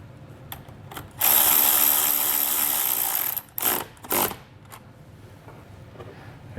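Power tool driving a nut onto a ground ring terminal during an air helper spring compressor install: one loud, close whir lasts about two seconds, followed by two short bursts and a few faint clicks.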